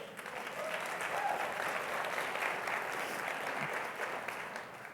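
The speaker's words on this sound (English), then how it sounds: "You applaud me for saying that" An audience at a summit session applauds, a dense, even wash of clapping from a large room that holds steady for several seconds at moderate distance, with no talk over it.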